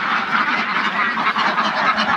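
Ducks quacking continuously on a duck farm, a dense overlapping chorus of many birds close by and fairly loud, no talking.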